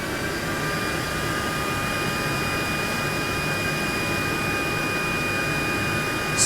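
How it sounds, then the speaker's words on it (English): A STIHL BGA 200 battery leaf blower runs at its slowest speed, a steady airy whoosh with a faint whine that holds level and close for the whole stretch. "we'll have a little go going through the different blower settings so you can hear the machine in operation"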